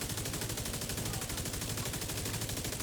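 A light machine gun fires in the video game The Division 2, a sustained burst of rapid automatic shots that stays loud and unbroken throughout.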